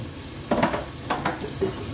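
Chopped onion and bay leaf frying in a pan for a Konkani-style mutton curry, a steady low sizzle with a few louder bursts of stirring and spoon scrapes near the mic.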